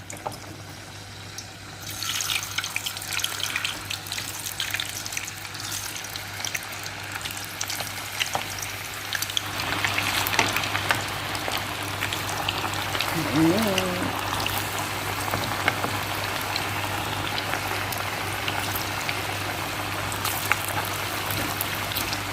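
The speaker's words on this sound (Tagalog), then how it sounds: "unahin ko prito yung potato" Potato slices frying in hot oil in a home kitchen, a steady broadband sizzle that grows louder and busier about halfway through as the pan heats up, with a constant low hum beneath.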